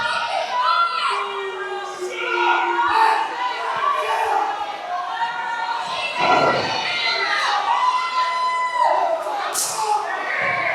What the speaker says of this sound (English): Crowd definitely getting behind Camaro.